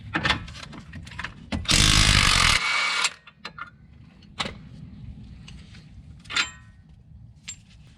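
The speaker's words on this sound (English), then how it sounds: "I'm going to take a 21 millimeter on an impact, and we're going to fire this right off." An impact wrench fitted with a 21 mm socket fires a loud, close burst of about a second to break loose a strut bolt on a 2009-2014 Nissan Maxima, with scattered clicks and clanks of tools before and after.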